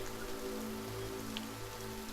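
Rain falls in the modded video game The Forest as a dense, steady patter. Low sustained game tones hum underneath at moderate volume.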